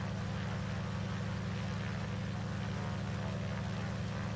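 A steady, throaty radial engine drone from an HGC Spartan 7W Executive idling in Microsoft Flight Simulator, deep and continuous with a rough pulsing texture and nothing else over it.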